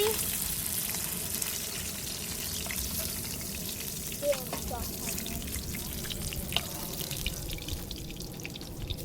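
Koi fish fry in oil outdoors, a soft, continuous bubbling sizzle with occasional small clinks and splashes, fairly quiet throughout.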